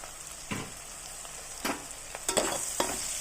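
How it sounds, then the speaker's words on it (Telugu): Ginger garlic paste and green chilies fry in a pan for an ivy gourd and meal maker curry, a faint constant sizzle punctuated by several short scraping stirs. "వేగనివ్వాలి."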